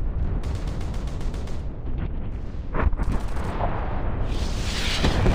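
War sounds in a video game: continuous rumbling explosions and heavy gunfire, loud and dense, with sharper blasts rising through the steady roar.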